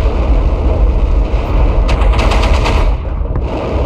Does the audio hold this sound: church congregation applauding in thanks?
no